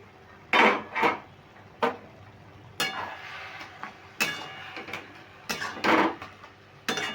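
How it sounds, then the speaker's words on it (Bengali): Metal cookware clatters on a stovetop as a lid comes off a pot of banana-flower curry: a series of sharp clanks and scrapes in irregular bursts, close and fairly loud, with no talk. "এবার আমি ঢাকাটা খুলে দিচ্ছি"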